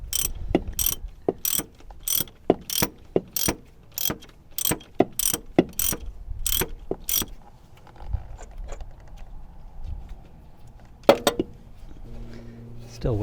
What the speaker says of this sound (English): Loosen this one bolt.